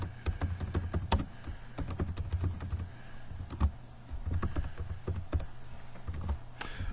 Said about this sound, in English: type in your name and date